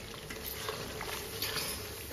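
Chicken sizzles softly in a pan at home, a low steady frying hiss with faint stirring and a sharp utensil clink at the end, fairly quiet and without talk.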